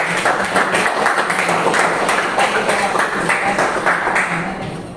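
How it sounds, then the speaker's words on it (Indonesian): Classroom applause for a student group's presentation, a dense steady patter of many hands clapping together for several seconds at moderate loudness, fading slightly at the end. "kita berikan tepuk tangan untuk pemaparan dari kelompok 1"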